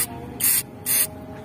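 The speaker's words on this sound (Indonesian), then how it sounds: "Nepelnya kita semprot dulu." Two short bursts of aerosol cleaner sprayed onto a car's brake bleeder nipple, each a loud close hiss lasting about a quarter second, separated by a brief pause over a quiet background hum.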